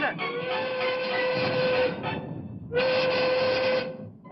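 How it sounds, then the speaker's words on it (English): A train pulling away in an animated scene, with two long steady whistle blasts separated by a short break over a rumbling rolling noise. "Do you hear that train pulling away?"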